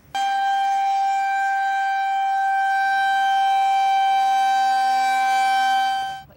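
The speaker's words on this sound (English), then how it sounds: "The storm sirens are outdoor warning sirens" Outdoor storm warning siren sounding one solid, unwavering tone, loud and sustained for several seconds before cutting off, with no voices over it.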